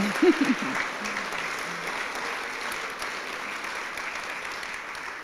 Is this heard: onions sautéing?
no